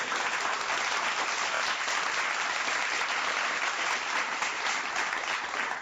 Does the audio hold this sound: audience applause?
yes